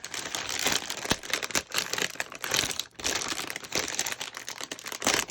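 Plastic packaging is peeled off white packages with dense, close crinkling and crackling that comes in uneven bursts, with brief pauses between pulls.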